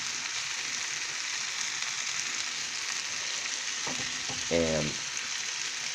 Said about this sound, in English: On a hot pan. Mix all the rice and vegetables.